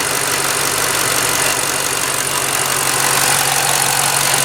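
A 2012 Ford Mustang Shelby GT500's supercharged, forged 5-liter V8 idles with a steady, rumbling drone and a faint high supercharger whine on top, close and loud throughout.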